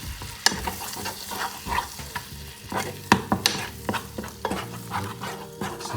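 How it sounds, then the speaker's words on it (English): Chocolate and butter melting together in a pan, with close, irregular stirring scrapes and clicks over a soft, steady sizzle and no talking. "you melt the chocolate with the butter."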